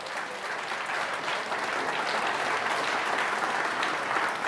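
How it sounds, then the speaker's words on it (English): A room full of people gives sustained applause for a sports team president and CEO at a business talk, with even, dense clapping holding steady throughout at a moderate level with no voices. "Big round of applause for Cyril"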